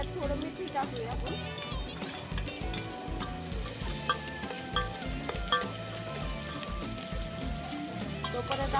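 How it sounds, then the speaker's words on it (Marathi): Onions frying in a pot over a village wood-fired stove make a steady crackling sizzle, with constant stirring and scraping close by under background noise. "कांद्याला चांगलं परतून घ्या लाल होतोवरती."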